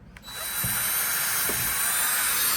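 A power drill spins up after a short click and runs steadily into foam for a giant hibiscus flower craft, a sustained whine, close and loud, with no talk.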